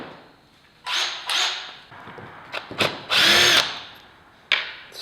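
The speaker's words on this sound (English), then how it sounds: "then I'm gonna go grab my drill because I'm lazy" A cordless power drill run as a cheap impact driver loosens small parts, firing several short, loud buzzing bursts close up with brief pauses between, the longest burst about half a second.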